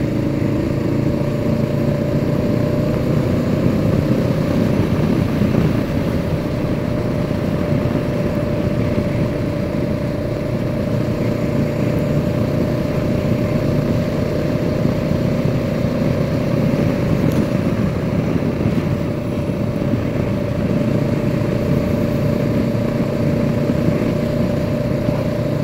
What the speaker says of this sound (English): for a 500cc bike, this engine is just fantastic